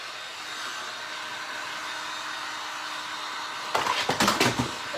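A hair dryer blows steadily over a painted thrift store teacup, a constant, even whooshing hum that breaks into a quick burst of clattering knocks and rustles in the last second.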